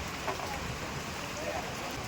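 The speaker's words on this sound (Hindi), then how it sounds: "बारिश आ गई तेज।" Heavy rain pours steadily, a dense, continuous hiss of falling water at a gathering outdoors, loud and unbroken with no clear voices over it.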